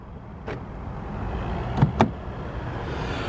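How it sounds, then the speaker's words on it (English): A few short, sharp clicks from a 2022 Audi RS3 Sportback's door locks, tapped on the handles, one early and a quick pair near the middle, over a low steady outdoor hum. "To lock, all you have to do is tap the indentations on each of the door handles"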